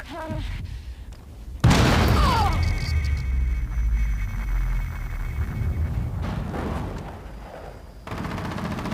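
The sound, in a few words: frag grenade explosion in video game Rainbow Six Siege Mobile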